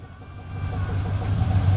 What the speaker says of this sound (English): You can already hear it knocking when I rev it up.